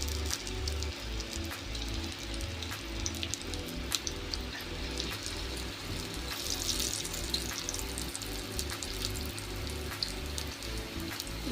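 Potato parcels frying in hot oil, a steady dense sizzle and bubbling crackle that holds at moderate loudness throughout, with no talking.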